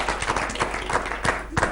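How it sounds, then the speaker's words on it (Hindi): An audience applauds with scattered, uneven claps. The clapping is brief and moderately loud. "पहले तो तालियां हो जाए हमारी ऑडियंस के"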